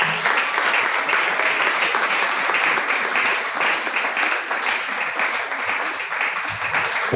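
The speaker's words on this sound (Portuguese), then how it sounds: "as palmas louvam o nome do Senhor Jesus" Sustained applause from a congregation during a church service, dense steady clapping continuing throughout with no break.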